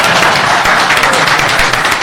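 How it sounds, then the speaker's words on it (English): Steady crowd applause, dense clapping from many hands filling the whole moment without pause. "so let's give him another round of applause."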